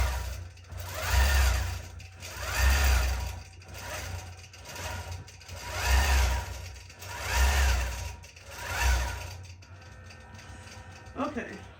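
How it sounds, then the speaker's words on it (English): A sewing machine stitches mermaid tail scales in rhythmic bursts of rapid whirring, roughly every one and a half seconds, then stops near the end, where a brief lighter mechanical sound follows. "I'm going to let it finish stitching the last 2 rows of the scales"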